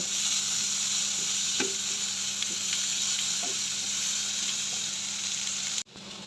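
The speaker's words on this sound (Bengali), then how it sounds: "দিয়ে দিব খালি করা কাঁচামরিচ এখন ভালো করে ভেজে নেব" Paste with chopped onion and green chillies fries in a pan, a loud, continuous close sizzle with a few soft stirring clicks, cutting off abruptly near the end.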